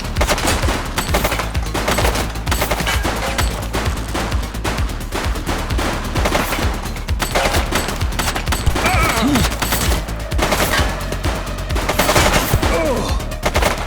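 Sustained gunfire from a shooting suspect during a police shootout in the video game The Precinct, with dense rapid bursts and volleys running loud throughout, mixed with game sounds.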